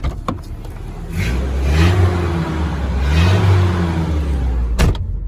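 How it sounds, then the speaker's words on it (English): Ford Ranger engine with a new exhaust revving up twice, each rise swelling into a deep, throaty drone before settling back, heard close and alone with a sharp click near the end. "listen to the exhaust on it now"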